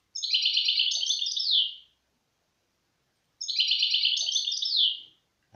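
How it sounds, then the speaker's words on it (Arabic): A European goldfinch sings its rapid twittering 'lolawit' phrase twice, each burst about a second and a half long and clear, separated by a silent pause. "هذه خاصة بسيكتور بوشاوي اللي هو اللولاويت، تغريد الحسون اللولاويت"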